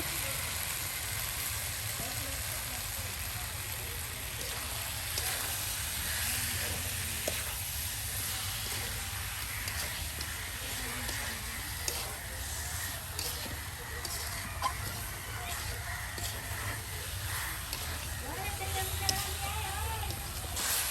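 Duck meat frying with spices in a pan, a continuous low sizzle and hiss under someone talking at intervals, with occasional light clinks.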